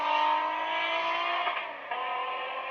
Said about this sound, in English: And Grujovic got the inside curb hard and launched the car in the air